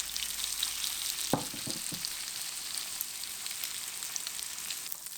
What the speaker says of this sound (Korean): 양배추 반죽을 올려줍니다.